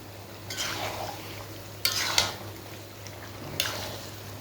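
Chicken pieces being stirred into oil in a pan for a curry: three short scraping, sizzling bursts of spoon against pan, moderately close, with a low steady hum beneath and no talking.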